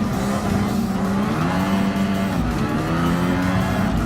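A Lotus 97T Formula 1 car in Gran Turismo Sport races with a steady, high-revving engine drone and shifting pitch, loud and continuous with a faint tire squeal.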